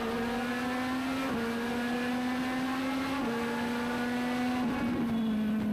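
A Legends race car at New Hampshire Motor Speedway drones at a steady high engine pitch from inside or near the car, with brief dips at each gear change or lift, continuous and loud.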